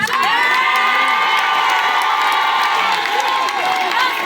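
A congregation at an outdoor prophetic gathering shouts and cheers in a loud, sustained roar, with high children's voices mixed into the crowd.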